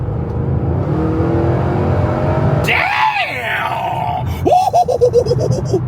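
A 2011 Chevy Camaro SS with a 6.2-liter V8 surges forward, engine roar rising under a steady interior drone, with loud excited vocal exclamations over it.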